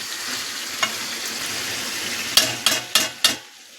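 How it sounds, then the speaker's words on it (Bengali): Mutton curry with papaya and potato sizzles steadily in oil over a low flame, then four sharp spoon scrapes and clacks against the pan come in quick succession near the end. "আমি ফ্লেমটাকে একদম কমিয়ে দিয়ে আর একটুখানি কষাবো"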